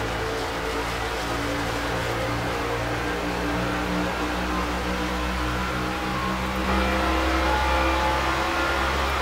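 Several race car engines drone and rev steadily in a racing video game, the cars bunched closely together, a dense continuous roar that swells slightly near the end.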